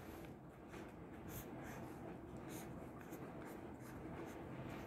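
Pen or marker scratching steadily across paper while a coordination compound structure is sketched by hand, a close, continuous faint scribbling with no talk.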